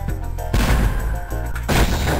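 Cannon fire in the video game Spyro 2: Ripto's Rage lands as a few loud, booming blasts with crashing impacts, heard over continuous game music.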